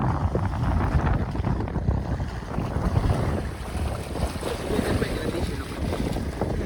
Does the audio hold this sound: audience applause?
no